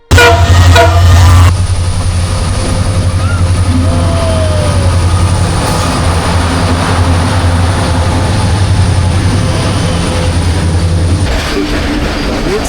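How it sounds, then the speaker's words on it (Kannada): A train arriving at a station near Sakleshpur rumbles loudly and steadily close by, a deep low roar with faint wheel squeals over the rails, continuing throughout without voices. "ಕೊನೆಗೂ ನಮ್ಮ ಟ್ರೈನ್ ಬಂದೇ ಬಿಟ್ರು"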